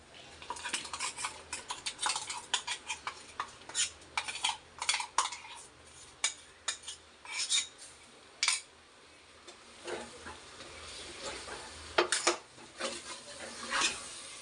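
Ground masala fries in a pan for avarekalu sambar while a spoon stirs it, giving quiet, irregular metallic scrapes and clinks over a faint sizzle, close by with no talking.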